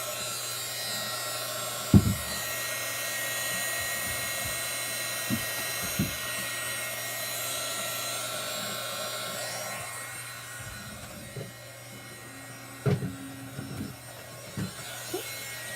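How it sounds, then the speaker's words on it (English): A heat gun blows steadily to dry layers of chalk paste, a continuous whirring hum with a tonal whine, close by, interrupted by a few knocks and handling bumps. "We can give it a little blast with our heat gun, and that will help hurry the drying process along."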